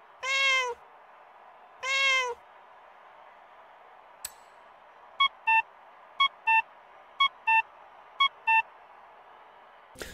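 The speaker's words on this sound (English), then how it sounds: "the cat meow and the Mexican traffic light horns are two horns you can get today" Two long nasal meow-like car horn blasts from Forza Horizon 5 sound close and loud, then after a tick a run of seven short electronic beeps follows in an even rhythm, with no talking.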